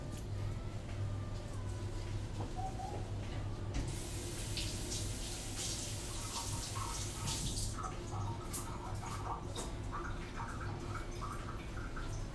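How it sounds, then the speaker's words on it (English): A kitchen sink tap runs while something is rinsed, a faint steady hiss of water that grows brighter and splashier partway through. "Gonna take this over to the sink. Give it a quick rinse"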